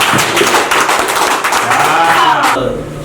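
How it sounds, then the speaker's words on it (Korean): An audience at a tourism development workshop claps close to the microphone, loud and fairly dense, with separate sharp hand claps and a few thumps, tapering off toward the end. "열정으로 관광협의회 사랑하는 마음으로 박수를 원합니다."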